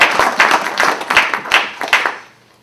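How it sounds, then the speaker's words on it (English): Audience applause at a community town hall meeting: a small crowd claps in uneven bursts of sharp hand claps, fairly close, then fades out toward the end. "So I want you to give her a round of applause."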